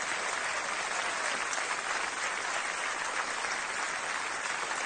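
An audience gives sustained applause to a group of children after their partner dance, with thick, continuous clapping at a steady level and no pause.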